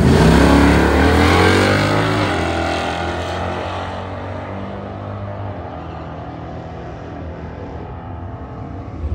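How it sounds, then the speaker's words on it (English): A loud drag car engine roars close by on nitrous, its pitch sweeping upward as the car accelerates hard down the strip, then fading steadily as it pulls away into the distance. "you can hear me grab the nitrous about 30 feet out."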